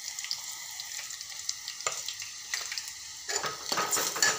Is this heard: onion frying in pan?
yes